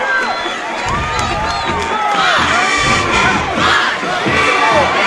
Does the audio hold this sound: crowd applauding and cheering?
yes